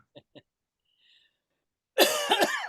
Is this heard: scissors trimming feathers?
no